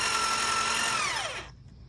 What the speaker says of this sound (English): we got another 12 rivets to drill